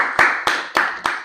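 Four sharp hand claps in a slightly uneven rhythm, close and fairly loud, each with a short ringing decay in a small room.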